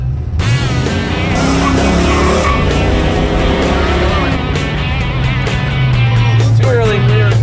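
A car accelerates through autocross cones, its engine droning loud and close with rising and falling pitch, short tire squeals cutting in near the end.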